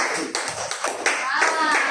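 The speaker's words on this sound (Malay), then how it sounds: "Oke, bagi tepukan pada kawan orang yang pertama di sini." A classroom of students clapping for a classmate during a teaching practice lesson, a short patchy round of hand claps with voices talking over it.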